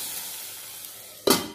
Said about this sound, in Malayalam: സാധാരണ വറുത്തിടുന്ന പോലെ കടുക്, ഉലുവ, പച്ചടി മുളക് ഇതൊക്കെ കൂടെ മൂപ്പിച്ച് ഇതാക്കണം.